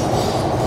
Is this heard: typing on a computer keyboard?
no